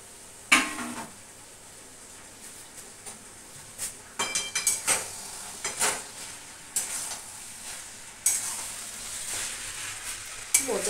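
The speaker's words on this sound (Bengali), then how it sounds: "মোচাটা মিক্স করে দিচ্ছি ভালো করে।" Chopped banana flower (mocha) with roasted ground cardamom is stirred in a pan, with sharp spoon-on-metal scrapes and clatters coming in irregular bursts over a soft sizzle.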